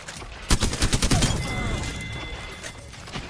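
Rapid bursts of automatic gunfire in the Apex Legends battle royale game, a dense volley of close, loud shots for about a second followed by scattered distant pops and game effects.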